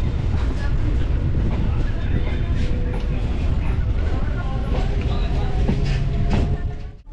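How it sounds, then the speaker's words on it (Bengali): A train pulling into Hasnabad railway station, its loud, steady rumble and clatter running continuously before easing off at the end, with faint voices mixed in. "হাসনাবাদ রেলওয়ে স্টেশনে পৌঁছে গেল ট্রেন"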